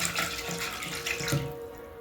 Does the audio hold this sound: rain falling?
no